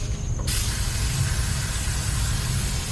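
A can of brake cleaner sprays in a steady close hiss onto the rear brake caliper parts of a 2010 Toyota RAV4, starting sharply after a brief pause and continuing without talk.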